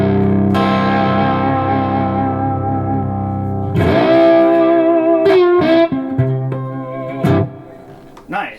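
Electric guitar played direct with a dry, slightly gritty tone, sustained chords and notes ringing out clearly and loudly, with pauses between phrases.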